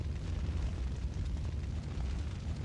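A grenade explodes in the Resident Evil 3 video game, a dense continuous rumble with a heavy low-end boom that holds steady for a few seconds with no voices.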